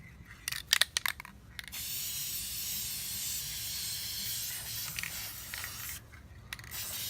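A spray gun nozzle hisses steadily as it sprays base coat paint onto parts for a 1997 Integra, a continuous close airy hiss framed by a few handling clicks and taps at the start and end.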